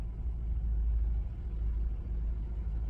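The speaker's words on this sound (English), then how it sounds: "Yep, there's the Hogan truck." Low, steady engine rumble from a Hogan truck idling nearby while stopped, a constant deep drone for about three seconds with no voices.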